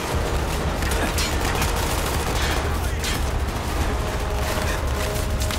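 Sustained gunfire in Call of Duty: Black Ops, a dense wash of rapid shots and explosive rumble filling the whole stretch at a steady loud level, with a hint of voice underneath.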